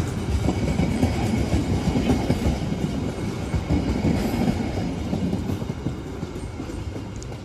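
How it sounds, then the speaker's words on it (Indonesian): A special KLB train departs Gedebage station in Bandung, its cars rumbling past close by with rhythmic wheel clatter and faint squeals, steady and loud throughout. "akhirnya KLB-nya berangkat meninggalkan stasiun Gede Bage"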